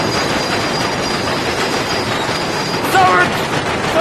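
A train in the video game Medal of Honor rumbles steadily along with a dense, noisy rolling roar, a brief metallic squeal rising near the end.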